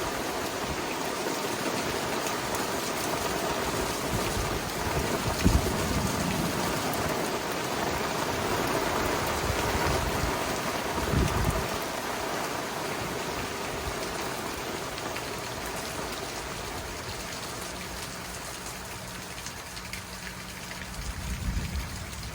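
Steady rain patters and streams down outdoors during a New England thunderstorm, a constant wash of drops with a few low thumps and rumbles mixed in.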